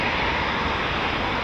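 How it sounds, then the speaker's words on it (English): Eurofighter Typhoon FGR4 fighter jets taking off at an RAF station, a loud, steady, broadband jet engine roar filling the whole moment, with no talk. "Typhoons going out"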